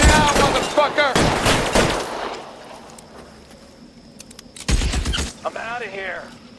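Gunfire in the game L.A. Noire: loud rapid bursts of shots open and return midway, with shouting voices between volleys and quieter stretches of ambience.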